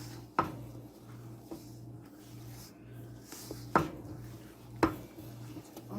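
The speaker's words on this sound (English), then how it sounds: "I have to mix from the bottom and the sides." A spoon works stiff chocolate brownie batter around a bowl, giving a few sharp knocks against the sides over a low, quiet scraping and a steady background hum, close and sparse, with no talk.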